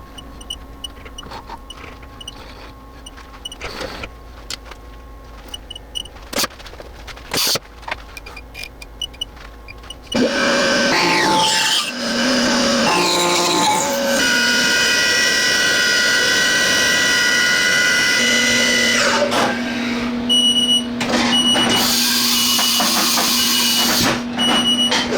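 A CNC mill machines a part for a Toyota 2GR-FE engine build in sped-up footage, a steady loud whir with high tonal whines and shifting pitch after a quieter stretch of clicks and hum.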